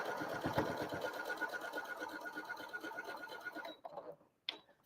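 A sewing machine runs steadily, stitching a quilt block with a fast, even mechanical whir up close, then slows and stops, followed by a brief clack.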